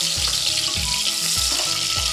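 Onions sizzle and fry in a hot pan while whole spices are cooked for an avarekalu bath dish, a steady crackling hiss with a few soft stirring clinks, close and continuous with no talk.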